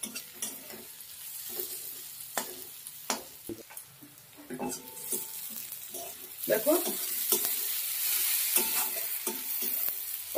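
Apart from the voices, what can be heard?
onions frying in oil until browned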